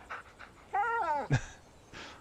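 A dog in the video game Alan Wake pants and lets out a short whining breath, a brief close sound set between soft quiet gaps.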